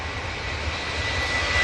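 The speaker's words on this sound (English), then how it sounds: "Nige is about to come in to make it 3 British Airways in." British Airways airliner arriving at Manchester Airport, a steady engine roar heard from a distance that builds slightly toward the end, with no voices.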